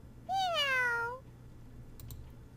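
A single drawn-out cat meow from Mystic Messenger sounds clearly on its own, followed by a couple of faint clicks against a quiet background hum.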